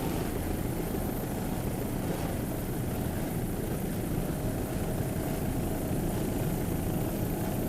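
A Mercury-powered 28-foot Sensation racing powerboat roars at the 2002 Savannah Grand Prix, its engine a loud, steady, continuous drone that fills the whole stretch with no voices.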